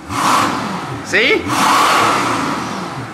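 A straight-piped Mercedes S65 AMG with a 6.0L V12 roars loudly and steadily, with a brief dip in the middle where a voice briefly cuts in, then the loud exhaust drone resumes.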